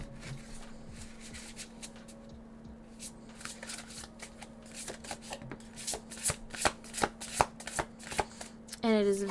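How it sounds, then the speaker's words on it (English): An oracle card deck being shuffled by hand, soft riffling and flicking card sounds that grow busier and louder toward the end, close, over a faint steady hum. "very easy to shuffle"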